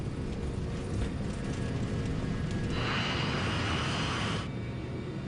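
Nigeria Airways Flight 2120's airliner engines roar steadily through takeoff rotation, a loud continuous broadband rumble with a brighter whine swelling midway before easing back.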